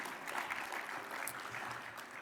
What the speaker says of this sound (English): Let's go ahead and give them all a round of applause.